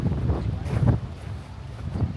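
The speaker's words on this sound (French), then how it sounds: "En tout cas, le vent est présent." Wind blowing outdoors in the medieval walled city of Carcassonne, a gusty low rumble buffeting the microphone, swelling and easing in several bursts without a break.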